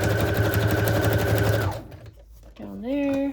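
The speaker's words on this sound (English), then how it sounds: "I'm going to sew the pocket shut" A sewing machine runs loud and steady, stitching a label onto a fabric pocket for a handmade embellishment pack, then stops abruptly as a voice begins talking close by.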